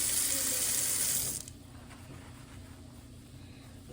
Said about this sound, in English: I'm going to wet it, get it all wet, go in with my shampoo.